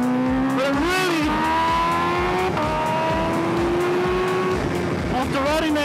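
A Kawasaki H2R motorcycle on a race track, its engine rising and falling in pitch through gear changes with a high whine, sustained and fairly close, while someone talks over it.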